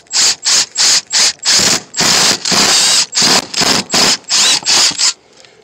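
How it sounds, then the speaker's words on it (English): A power drill bores a hole into the wall of an enclosed car trailer, running in about a dozen short, loud, close bursts with brief pauses between them. "just find a spot on here, you know, and drill a hole in it, and then we'll start cutting out from there."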